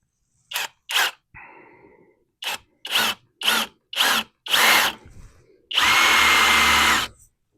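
A power drill fitted with a 9/64 bit bores into a stiffener plate for a Jeep XJ gearbox swap, firing in a series of short whirring bursts before one longer, loud run.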